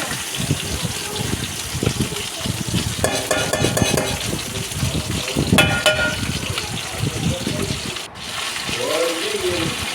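Ivy gourd and curry leaves tumble into a hot pan of popping mustard seeds, raising a steady sizzle with scraping stirs, close and continuous for ten seconds.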